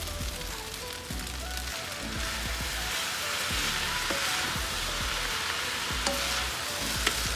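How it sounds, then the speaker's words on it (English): Soy sauce hitting a hot pan of frying shrimp fried rice, a loud, dense crackling sizzle with rhythmic scraping and stirring knocks, close and continuous without talk. "Let me go ahead and add my soy sauce."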